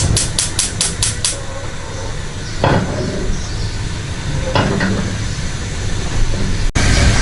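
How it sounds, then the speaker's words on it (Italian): Whole unpeeled garlic cloves sizzle in two tablespoons of olive oil in a pan, making a steady, close hiss with a few brief crackles and pops. "l'aglio vedete sta sfrigolando"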